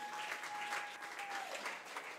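A church congregation applauds in a steady wash of clapping that sounds fairly distant and soft, with a thin sustained tone running beneath it and no clear voices.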